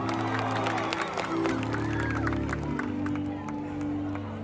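Audience applause and cheering at a concert in Makassar, a dense steady crowd sound under sustained band chords, with scattered whoops throughout.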